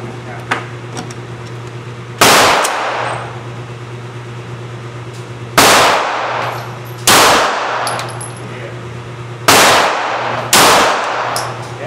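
Glock 17 Gen 4 pistol fired at a range: five sharp, loud shots at irregular intervals, each with a short decaying echo, over a steady low hum and faint background noise.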